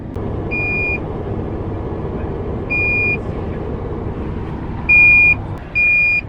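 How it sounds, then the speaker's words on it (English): Four short, high electronic beeps from a drone controller at uneven intervals, loud and close, over steady low rumbling background noise. "the controller's beeping, so what does that mean?"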